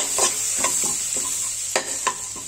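Whole spices sizzle and fry in melting butter in a pan for restaurant-style butter chicken, a steady close crackle broken by several soft stirring scrapes, with no voices.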